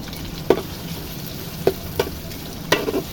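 Whole garam masala with bay leaf, cardamom and cinnamon frying in oil for a chicken roast, a low steady sizzle punctuated by four sharp spoon knocks against the pan, close and without speech.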